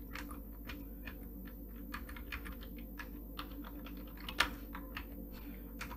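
Steady computer keyboard typing, with fast irregular keystrokes and one sharper tap near the end, entering phone numbers and an email address into a Windows form application.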